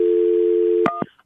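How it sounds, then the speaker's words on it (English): A telephone rings on an outgoing call, one long steady ringback tone followed by a couple of short clicks as it cuts off, close and clear with no voices. "Jacqueline, hang on, it's ringing."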